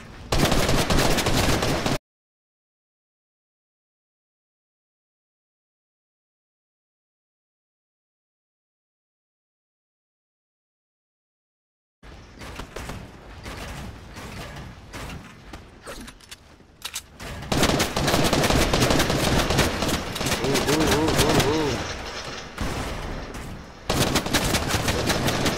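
Loud gunfire in the video game Fortnite, with bursts of rapid shots and heavy fire at the start and again after a long silent gap, building into dense, near exchanges toward the end.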